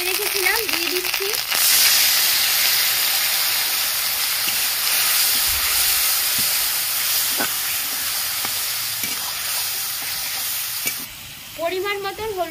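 Ginger and green chilli paste hits hot oil in a pan for doodh patol, giving a loud, steady sizzle and hiss with occasional stirring scrapes; a voice is heard briefly at the start and end.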